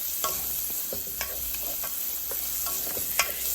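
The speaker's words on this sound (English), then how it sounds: "And you're going to kind of saute these up." Onions sautéing in oil in a pot, a steady hiss with light scrapes and clicks from stirring, close and continuous with no voices.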